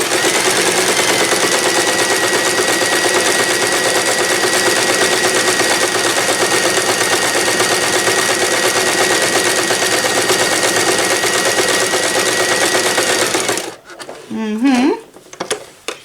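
A sewing machine sews the side seam of a drawstring bag with a loud, close, rapid mechanical rattle for over thirteen seconds, then halts, and a voice briefly speaks afterward.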